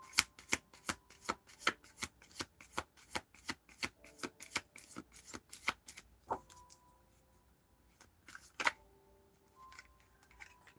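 Tarot cards shuffled in a steady run of sharp riffling snaps for about six seconds, close up, followed by a few softer, scattered card taps and slides.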